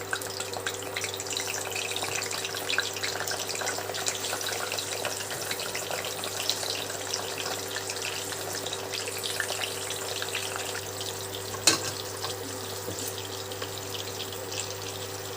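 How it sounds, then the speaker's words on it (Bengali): Pointed gourd (potol) fries gently in hot oil with a steady, even crackling sizzle that runs unbroken throughout, plus a low kitchen hum and one brief clink near the end. "খুব বেশি কড়া করে ভাজবো না, জাস্ট হালকা তেলে ভেজে নেব।"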